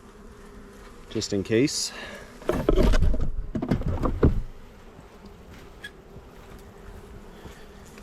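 A honeybee swarm buzzes around a beekeeper on a farm, loud drones swelling up close in bursts before settling into a fainter, steady hum, with a brief spoken remark.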